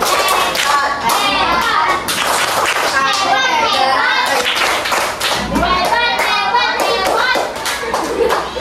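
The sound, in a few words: class clapping for presenters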